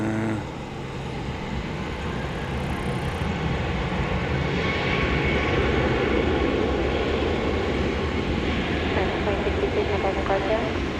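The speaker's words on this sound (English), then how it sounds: "So what we saw going out from the east side was Turkish Flight 192 to Istanbul, 7879 Dreamliner" A Turkish Airlines Boeing 787-9 Dreamliner takes off from DFW Airport at night, a steady, loud broadband engine roar that swells and holds throughout, with distant traffic-like rumble beneath.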